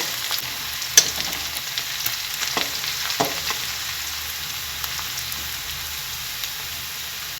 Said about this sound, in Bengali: এবার আমি দিয়ে দেব এখানে রসুন কুচি সামান্য, দিয়ে এটা ভাজা ভাজা করে নিতে হবে একটু